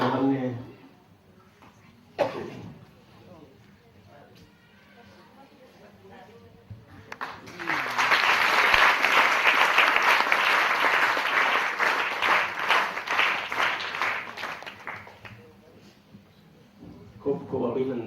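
Audience clapping in greeting at a bhojanalay (dining hall) opening ceremony, a loud sustained burst of applause lasting several seconds, preceded and followed by a speaker talking.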